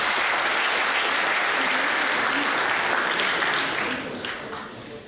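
A crowd at a public lecture claps loudly for a governor, a dense, sustained wash of applause that holds steady and then begins to thin and fade toward the end.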